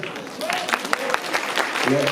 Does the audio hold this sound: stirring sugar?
no